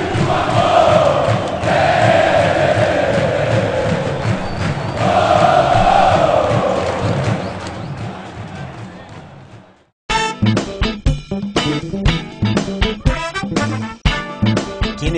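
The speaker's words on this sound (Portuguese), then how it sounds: "Que energia a torcida do Vasco São Januário, hein?" Vasco da Gama supporters at São Júanuário stadium sing in a large, roaring crowd chant that swells and fades over several seconds, then gives way to a choppy run of clipped voices and noise.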